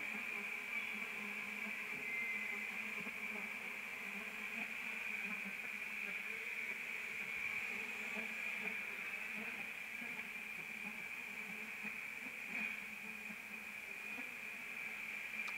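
A honey bee swarm hums steadily and loudly just before taking off, a dense unbroken drone with no talk over it.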